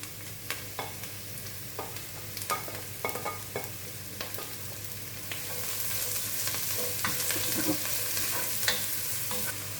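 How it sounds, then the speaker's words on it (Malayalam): Ginger, green chili, curry leaves and onion sauté in a pan, with repeated scraping stirs and clicks over a gentle sizzle that grows louder and steadier in the second half. "ഇഞ്ചിയും പച്ചമുളകും വേപ്പിലൊക്കെ ഒന്ന് മുരിയണ വരെ വഴറ്റി കൊടുക്കാം."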